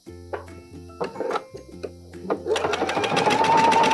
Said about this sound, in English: So I'm just gonna back stitch a couple times so it's nice and secure